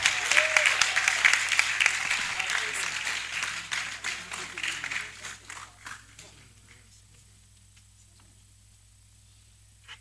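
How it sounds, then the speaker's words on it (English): A crowd applauds loudly at first, the clapping thinning and fading out over several seconds until only a few scattered claps remain. "A round of applause for her."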